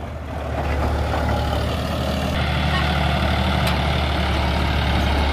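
A John Deere 5405 tractor pulling an eight-foot Landforce super seeder in a wheat field, its engine running steadily in gear at about 1500 RPM with a deep, continuous diesel drone, loud and close, with no talk over it.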